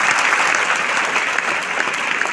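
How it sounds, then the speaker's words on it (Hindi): An audience claps loudly and steadily at a 20th anniversary celebration event, a dense, continuous burst of applause filling the whole moment with no speech. "मैं चाहूंगा एक बार सबके लिए जोरदार ताली होनी चाहिए।"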